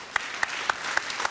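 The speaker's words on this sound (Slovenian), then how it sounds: "En aplavz!" Studio audience applause at a television entertainment show, a steady wash of clapping with sharp rhythmic accents about every quarter second, close and fairly loud throughout.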